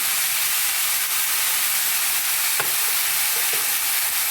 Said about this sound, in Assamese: শাকখিনি অকণ ভাজি ল'ম